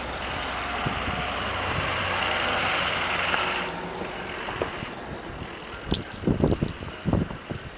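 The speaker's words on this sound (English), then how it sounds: "There's the truck." A four-wheel-drive truck rolls past on a snowy street during a Mystic, Connecticut snowstorm, its broad engine and tire rush swelling then fading, followed by softer scattered clunks and thumps nearby.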